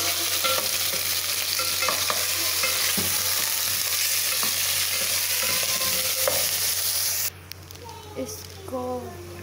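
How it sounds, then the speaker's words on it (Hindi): Chicken fries with garlic-ginger paste for nihari while being stirred, a loud continuous sizzle with scraping stirs and a low steady hum, quieting sharply near the end. "इसको हमने थोड़ा सा फ्राई किया, जैसे आपको नज़र आ रहा है ये फ्राई हो गया"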